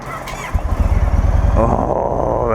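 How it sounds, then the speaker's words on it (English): A V-twin motorcycle engine starts up and settles into a steady, throaty low rumble at idle, close by and fairly quiet. "Oh, that V-twin power. She's quiet, I will give her that. But just the nice throaty rumble."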